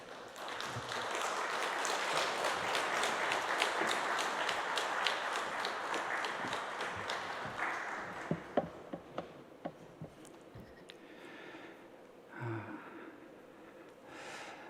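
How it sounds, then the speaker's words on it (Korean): A church congregation at a Saturday dawn worship service claps in sustained applause to welcome a guest preacher, then the clapping thins into scattered claps and fades. "나오실 때 박수로 우리가 맞이하겠습니다."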